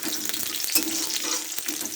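Onion and green chillies fry in oil, giving a steady, close sizzle with a few brief stirring scrapes and no voices.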